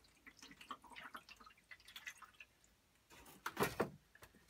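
Water is poured into the tray of a wet tile cutter, making faint trickles and small splashes before a louder gush near the end, with no talking.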